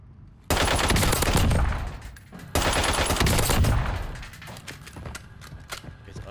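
A Hemlock battle rifle fires in a video game gunfight, two loud sustained bursts of rapid automatic fire roughly two seconds each, close and punchy, followed by fainter scattered shots and clicks.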